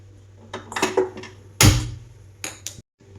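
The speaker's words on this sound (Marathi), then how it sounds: "तेल बनवण्यासाठी मी ही लोखंडी कढई घेतलेली आहे" An iron kadai clanks in a home kitchen as it is handled and set down, producing several sharp metallic knocks and scrapes, with one loud clang in the middle.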